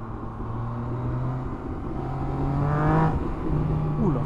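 A 2020 Yamaha MT-09 motorcycle accelerates, its engine tone climbing steadily in pitch and growing louder, heard close and alone with no talk.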